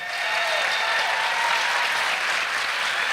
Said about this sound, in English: Can we please give a round of applause to our founder, Fifi Handy, who is here tonight?